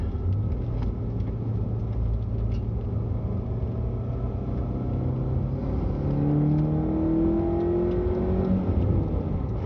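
Chevrolet Spark M400 engine fitted with an aftermarket air intake, revving with a steady low rumble and a whirring note that climbs in pitch toward the end, loud and close with no voices.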